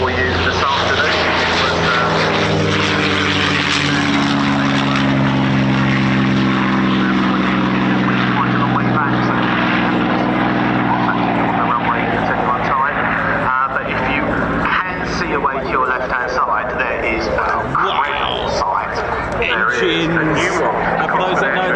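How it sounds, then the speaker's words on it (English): A P-47 Thunderbolt warbird passes at an air show, its deep piston engine drone loud and rumbling then fading, with an announcer's voice talking over the display. "that's my favourite warbird, the P-47 Thunderbolt"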